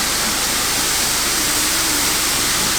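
Water pours heavily down the open window of a camper van, making a constant, loud rushing hiss like a small waterfall with no break.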